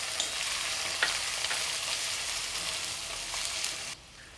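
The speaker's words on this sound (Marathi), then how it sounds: "कांदा आपल्याला चांगला परतून घ्यायचा आहे." Onion sautéing in a pan with ginger-garlic paste, a steady close hiss of frying with scattered soft stirring scrapes, dropping abruptly near the end; no one speaks.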